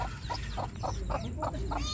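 A mother hen near her newly hatched eggs gives a steady series of soft, rhythmic clucks, about seven in two seconds, close by over a low background rumble.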